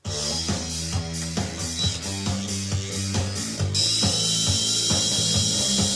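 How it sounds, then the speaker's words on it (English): A power drill bores into the solid metal of an old car door's bodywork near the A-pillar, a steady whirring grind with rhythmic low pulses that rises to a harsher, brighter pitch partway through, close and loud with no talk. "It's always a bit scary drilling into old bodywork"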